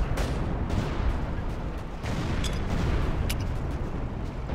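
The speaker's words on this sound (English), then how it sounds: "we are launching bullets and shells in their direction" Dense, rumbling gunfire and shell blasts roll on in a Battlefield Yugoslavia battle, bullets and rounds fired toward enemy bases, loud and continuous with sharp cracks poking through the booming wash.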